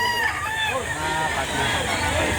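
Chickens and roosters at a poultry market in Lipa City, Batangas cluck and crow together in a dense, continuous chorus close by, with people talking in the background.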